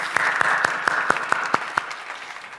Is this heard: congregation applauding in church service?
yes